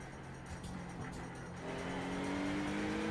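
LMP2 and GTP prototype race cars at Watkins Glen, engines droning at steady high revs and building louder toward the end as the cars draw nearer, with rising engine tones over a constant wash of track noise.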